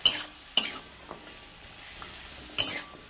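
Turmeric and salt being stirred into matar dal cooking in a pan, with a few distinct scraping stirs over a soft sizzle and no talk.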